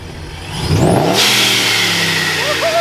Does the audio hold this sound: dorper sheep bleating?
no